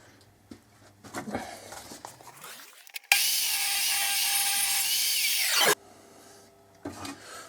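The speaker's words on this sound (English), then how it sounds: "I'm going to rip down some of the timber that I've used for the frame" Power saw ripping timber framing lengths in a shed-base build, a loud steady cut of about two and a half seconds after the blade spins up, with quieter knocks and handling before and after.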